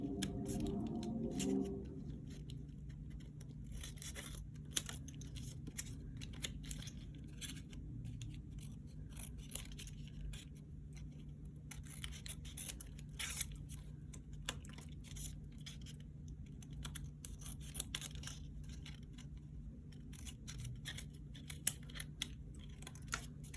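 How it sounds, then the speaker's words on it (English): Scissors snip close along the points of a folded paper Moravian star, a quiet run of small, sharp cuts and scrapes at close range with no talking. "you're gonna take your scissors again, and you're gonna trim really close to the point"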